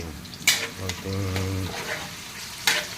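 Onion and ginger fry in a hot pan with a close, crackling sizzle. Utensil scrapes and clinks punctuate it, and a brief low hum sounds underneath.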